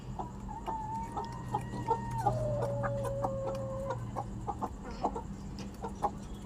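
Several free-range native hens on a rooftop cluck and murmur close by in a steady, irregular rhythm over a faint background hum, with a few sharper squawks mixed in.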